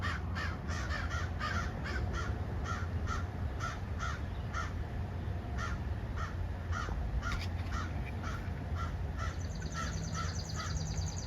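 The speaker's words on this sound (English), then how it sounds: "Taking a video of the crows." Outdoors, a group of crows caws repeatedly in quick harsh bursts, some near and some farther off, over a steady, noisy background hum, with no talk.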